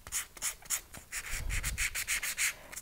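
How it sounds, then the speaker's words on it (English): An ultrafine sanding pad rubs back and forth over a bronze cuff bracelet, close and rhythmic, about a dozen short scratchy strokes with no talking. "I'm just smoothing out the scratches that I made with my fine, with my superfine, and my ultrafine"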